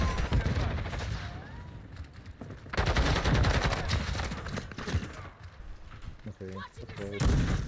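Shotgun blasts and gunfire from the Call of Duty Modern Warfare II video game, loud bursts over dense in-game battle noise, with a player talking over part of it.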